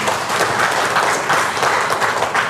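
A seminar audience at a marketing plan presentation for Enagic Kangen Water applauds in a dense, continuous burst at a steady level for the whole short stretch.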